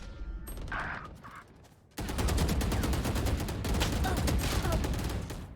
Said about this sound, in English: He can't see me, but he's firing.